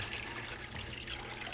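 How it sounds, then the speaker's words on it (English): Water poured from a container into a plastic or metal container for a can-crush experiment, a steady close splashing trickle lasting throughout without pauses. "you're gonna take your water and pour it into your plastic or metal container"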